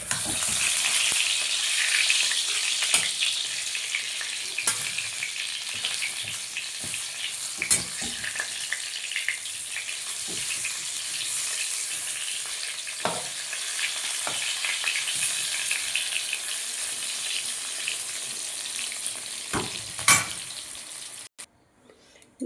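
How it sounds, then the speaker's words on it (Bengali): Brinjal slices fry in hot oil in a home kitchen, giving a continuous close sizzling hiss with scattered pops and clinks of a utensil, fading slightly toward the end. "বেগুন ভাজা বসিয়েছি আর ভাতটা বসিয়ে দিয়েছি"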